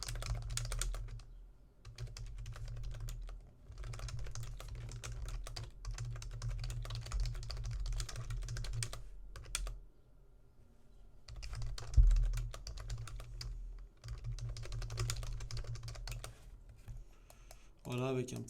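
Fingers type a short description on a computer keyboard in bursts of quick, close clicking, broken by brief pauses, with a low steady hum beneath.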